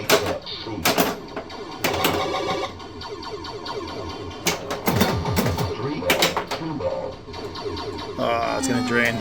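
An Eightball Deluxe pinball machine plays game sounds of electronic tones and bursts, dings and rattling hits, close and busy, with a person talking over them.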